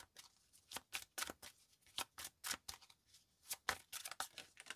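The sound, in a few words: shuffling an oracle card deck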